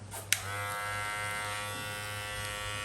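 A cordless hair clipper clicks on and runs with a steady, close, high-pitched electric buzz that holds evenly to the end.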